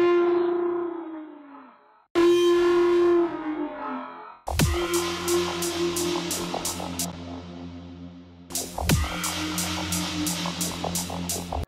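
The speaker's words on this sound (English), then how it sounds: "I'm gonna transform this camel into a sound effects by using stuff like a distortion, pitch shifting," A drawn-out camel groan repeats in heavily processed forms: pitched down, distorted, and reverberant, with rhythmic pulsing bursts over a low droning hum.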